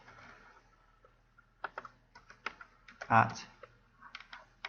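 Keys on a computer keyboard are tapped in short, uneven bursts of quiet close clicks, with a brief louder clack partway through, while a voice speaks over them.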